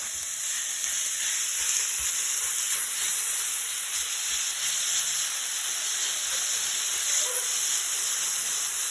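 Fajita meat hits a hot pan with onion powder and chili powder-seasoned vegetables, giving a loud, steady sizzle with hissing steam that holds evenly throughout, no voices.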